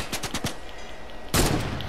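Gunfire in a shooting video game comes as a quick burst of automatic shots, then a pause and a louder, denser blast of noise over a steady background, with no talking.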